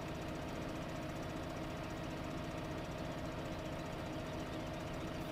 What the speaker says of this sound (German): Mein Trecker klingt irgendwie komisch.